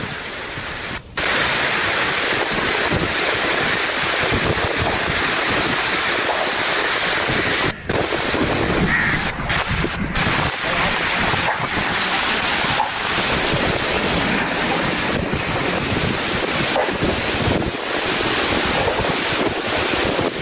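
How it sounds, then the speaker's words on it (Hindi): Cyclone Nisarga batters the coast at Ratnagiri with a loud, continuous roar of strong wind buffeting the microphone, mixed with heavy rain and crashing sea waves, steady and dense for the full length. "हवाओं की जो आवाज है, जो तूफान की दस्तक सुनाई दे रही है, तेज बारिश की आवाज सुनाई दे रही है"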